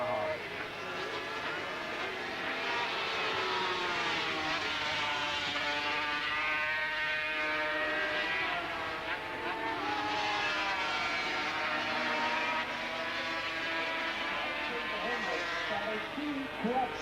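Yamaha racing motorcycles, among them a V4 Yamaha, scream past at the 1982 Dutch Grand Prix. Their high-pitched engines rise and fall continuously under a race commentator's voice.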